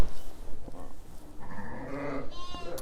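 Sheep and lambs bleat in lambing pens on a farm, with several overlapping calls of varying pitch rising and falling over steady barn background noise, fairly close.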